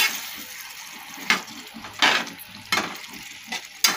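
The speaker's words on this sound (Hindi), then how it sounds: "हम इसको अच्छी तरह से भून लेंगे" Cauliflower fries in a pan under a soft sizzle while a spoon stirs it, scraping in four or five distinct strokes over the steady frying.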